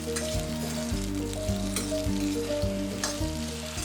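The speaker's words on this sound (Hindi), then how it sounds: "इसी तरह से सारे आलू के पीसेस भी फ्राई कर लीजिए" Potato pieces fry in hot oil in a kadhai with a loud, steady crackling sizzle, joined by a few soft stirring knocks, and no one speaks.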